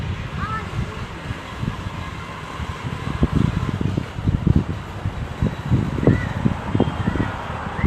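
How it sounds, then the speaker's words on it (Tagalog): Strong winter wind in Kuwait gusting and buffeting outdoors, rumbling in low irregular bursts that build in the second half, with a voice talking faintly at times. "Na, grabing hangin."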